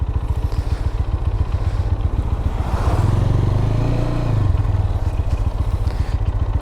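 Motorcycles pass through a road junction, engines droning and swelling as a bike goes by close in the middle, then fading back to steady traffic rumble.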